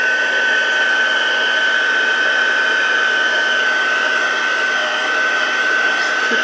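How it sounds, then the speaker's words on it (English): A heat tool blows steadily on a watercolor card with embossing powder, giving a loud, continuous, even whirring hiss that holds for several seconds without pause. "I'm gonna go ahead and put it on one on my heat tool"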